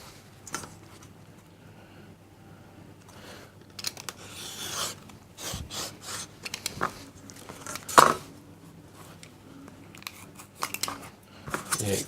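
Scissors snip away excess fabric from the edge of a fabric-covered mat board, a few crisp cuts and rustles spread across the clip with quiet pauses between, close by.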